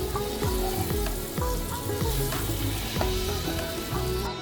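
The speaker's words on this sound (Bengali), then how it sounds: "মিশিয়ে নিয়ে মাঝারি আঁচে সময় নিয়ে ওলগুলোকে বেশ ভালো করে ভাজবো" Chunks of elephant foot yam fry over medium heat with turmeric and chili powder, a dense continuous sizzle broken by regular scraping stir strokes from a spoon against the pan, close and steady.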